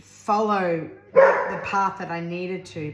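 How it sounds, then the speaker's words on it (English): A dog barks sharply a couple of times close by while a person keeps talking over it. "Please excuse my dog barking."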